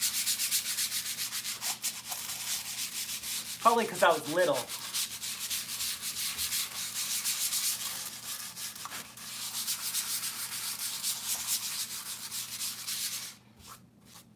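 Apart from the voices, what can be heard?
sanding a guitar body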